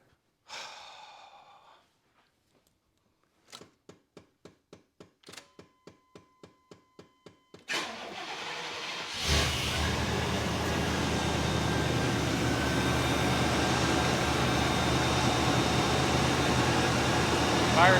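Tow truck engine on a vehicle nicknamed the hog, just after intake gasket work: a few quiet thunks, then a rapid series of starter cranking pulses before the engine catches and settles into a steady, loud idle.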